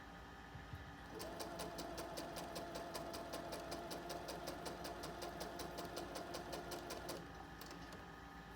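A sewing machine runs steadily for about six seconds, stitching quilt pieces right sides together for a mini quilted table runner, with a rapid even needle rhythm that starts and stops cleanly, close and alone.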